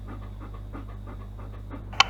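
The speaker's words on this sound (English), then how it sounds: "There's a guard dog." A guard dog pants in quick, rhythmic breaths close by over a steady low hum, and a brief sharp click lands at the very end.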